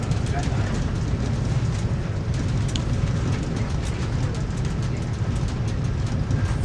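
A VIA Rail passenger train rolls toward Ottawa Station, a steady loud low rumble and rattle of wheels on track filling the whole stretch with no break.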